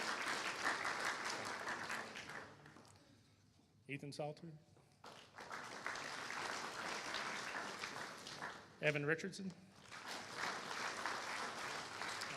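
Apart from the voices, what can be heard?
audience applause at high school awards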